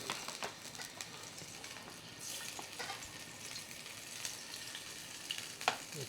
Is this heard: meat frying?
yes